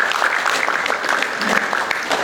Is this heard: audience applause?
yes